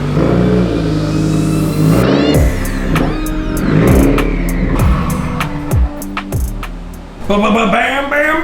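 A 2015 Subaru WRX engine revs up and down in loud, close bursts as the car backs in, each rising whine dropping away before the next.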